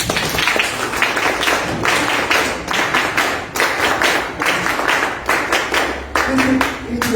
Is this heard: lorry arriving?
no